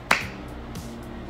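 A single sharp clap or snap rings out near and loud to trigger a clap-on light, followed by a short quiet room tone with faint low hum.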